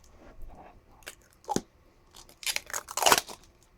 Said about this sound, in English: Let me take off this plastic.